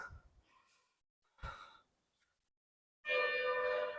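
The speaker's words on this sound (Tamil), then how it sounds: "மேலே ஏறி வந்ததில் மூச்சு வாங்குதுங்க" Heavy, out-of-breath panting follows a climb up the hill steps to Pugazhi Malai Murugan Temple near Karur. Three close breaths are heard, the last the longest and loudest, with no speech.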